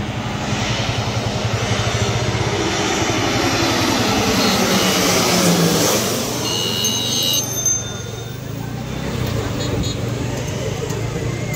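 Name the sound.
airplane landing low overhead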